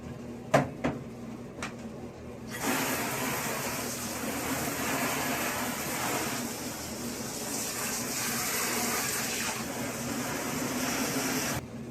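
Water sprays steadily to rinse down a shower after cleaning, a broad continuous hiss close by that follows a few sharp knocks, with no talking.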